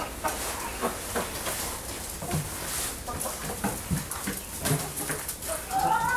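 Chickens cluck and murmur in a busy, continuous chorus, with scattered sharper calls rising over a steady background bustle.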